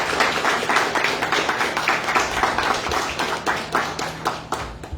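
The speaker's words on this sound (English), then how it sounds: "Please join me for a round of applause." Audience applause for a guest speaker at a 2021 graduation ceremony, a dense steady patter of many hands clapping close by, with individual claps standing out through the whole stretch.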